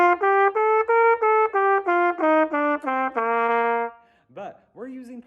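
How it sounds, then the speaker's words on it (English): Eight notes rise stepwise through a full octave scale and then fall back, each sustained pitched tone evenly spaced, played clearly and close up, with brief speech following at the end. "A full scale is actually an octave, and it sounds kind of like this."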